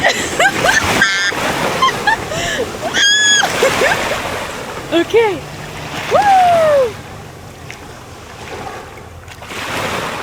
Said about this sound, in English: The waves get crazy when a boat goes by.